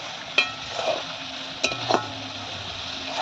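A spoon stirs chicken feet and tripe curry in a metal pot, a few sharp clinks against the rim standing out over a faint steady sizzle, close by and without talk.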